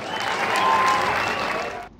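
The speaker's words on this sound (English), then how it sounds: "let's clap for him" An audience at a school sports games opening ceremony applauds the chief guest, a visiting head of state, with loud, sustained clapping that swells and then fades out over about two seconds.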